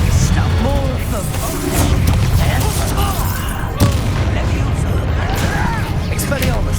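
The explosive Confringo spell goes off in a Hogwarts Legacy cave battle, with booming blasts and crashes inside a dense, loud fight where voices are also heard.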